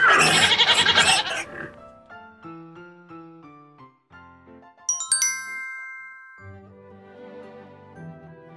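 A goat bleats in a children's English-language fairy tale of the ugly duckling, following a noisy burst and set among bright chime-like tones and soft musical notes, fairly loud and close with no talk over it.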